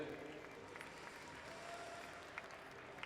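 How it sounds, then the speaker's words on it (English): A crowd at a Canadian middleweight horse pull final applauds, a faint, distant, continuous wash of clapping heard from far off. "Let's give them all a big, big round of applause, would you?"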